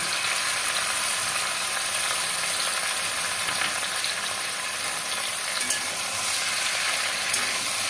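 Poppy seed and cashew paste fries in a pan with a loud, steady, even sizzle, joined by occasional faint taps from stirring.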